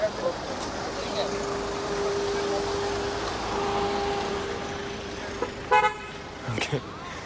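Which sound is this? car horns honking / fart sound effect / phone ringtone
car horns honking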